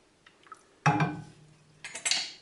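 A metal spoon stirs green pea soup in a pot, making a couple of distinct clinks and a scrape against the metal with quiet pauses between them.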